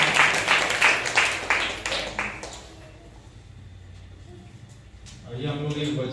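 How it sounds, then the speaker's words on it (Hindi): A church congregation at a Sunday service claps in a brisk burst that tapers off into quieter scattered taps, before a speaking voice comes in over the room near the end. "इनके लिए जोरदार तालियां हो जाए।"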